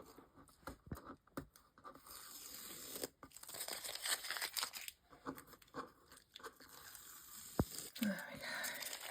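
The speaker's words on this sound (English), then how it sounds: "let's just pull the tape" Masking tape is peeled off watercolour paper with soft, close tearing and crinkling strips, quiet and intermittent, and a voice speaks faintly between the pulls.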